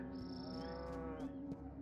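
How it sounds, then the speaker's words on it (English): A cow from the video game Destroy All Humans! Remake lets out a single sustained, drawn-out moo, clear and up close with nothing else over it. "They still moo."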